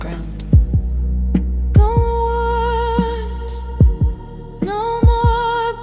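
Soft, low thumps struck on the body of an acoustic guitar, like a distant heartbeat, land in irregular pairs amid sustained melodic music with a faint wordless hum.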